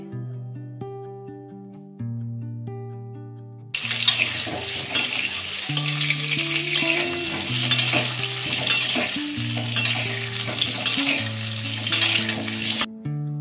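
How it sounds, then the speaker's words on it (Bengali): Boiled potatoes fry in hot oil in a wok, a loud close sizzle with stirring scrapes that starts abruptly after a soft melodic music intro and runs under continuing music until cutting off near the end. "কড়ায় তেল গরম করে আগে থেকে সিদ্ধ করে রাখা আলুগুলো এবার ভেজে নিচ্ছি।"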